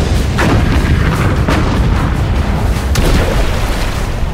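British battleships firing at the Bismarck, a dense, continuous roar of heavy naval gunfire with repeated booms blending into a loud rumbling wash.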